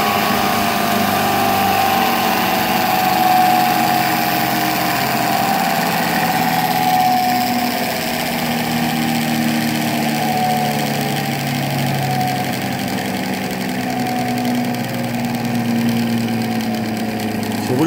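A car engine with a point distributor idles loud and close in a steady, slightly uneven mechanical run, its low hum drifting in pitch partway through.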